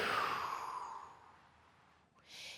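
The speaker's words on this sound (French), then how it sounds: "et on expire par la bouche" A woman exhales through her mouth during a core workout with dumbbells, a soft, breathy, airy rush that fades over about two seconds, followed by a brief hissy breath at the end, with no talking over it.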